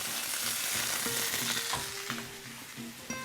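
Cornish game hen laid into a hot skillet, giving a loud, steady close-up sizzle with a few clinks of the pan throughout.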